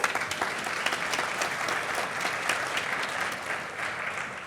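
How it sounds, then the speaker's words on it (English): Conference audience clapping at a leadership event, a dense, sustained round of applause from a large crowd, loud at first and easing slightly as it continues. "Give them a round of applause."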